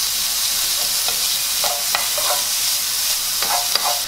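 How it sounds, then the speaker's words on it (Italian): Grated zucchini tipped into a pan of browned pancetta, giving a steady bright sizzle with a few light stirring scrapes and pops throughout, close and alone. "Ora che la pancetta è ben rosolata, aggiungiamo le zucchine."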